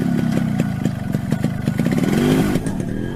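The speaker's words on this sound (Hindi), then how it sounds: "Sit on my motorcycle." A motorcycle engine runs up close with a rough, throbbing idle and irregular revving, and the pitch rises briefly near the end. No one speaks.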